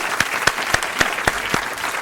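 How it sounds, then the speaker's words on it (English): A round of applause for the guests of a live show, with distinct, evenly spaced claps sounding close and fairly loud, like a few people clapping near a microphone, with no voices over it. "let's give a round of applause to all our guests"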